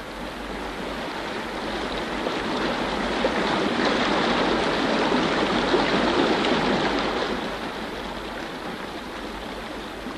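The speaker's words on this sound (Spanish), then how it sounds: "Este es el gran río Sirdarya, que nace en las montañas de Tian Shan y fluye hacia el oeste a través de la llanura de Ferganá." Broad, steady rushing water of the Syr Darya, a large river flowing west across the Fergana plain, a dense continuous roar that swells slightly in the middle and carries on with no voices.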